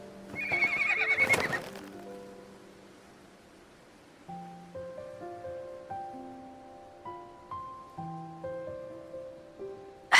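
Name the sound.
horse neighing and hooves, from video game Love and Deepspace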